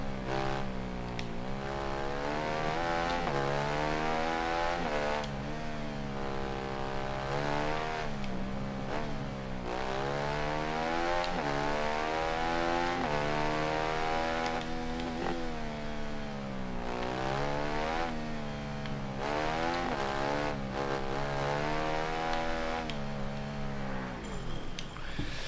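Factory-stock motorcycle racing in Ride 3, its engine screaming continuously up and down through gears for a long stretch, loud and close-up with sweeping pitch changes and no voices.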